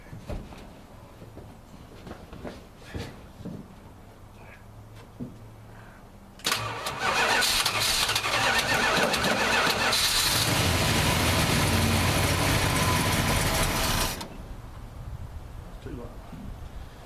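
A 1968 Plymouth Fury convertible engine cold-starts after being backed off the fast idle cam, cranking then catching into a loud, close roar that settles into a steady rev before dropping back, with quieter shop noises before and after.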